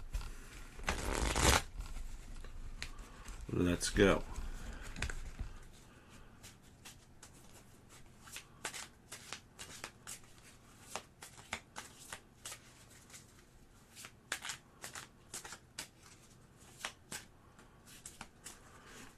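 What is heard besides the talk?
shuffling playing cards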